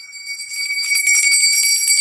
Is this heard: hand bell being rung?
yes